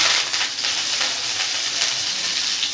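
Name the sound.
curry leaves frying in oil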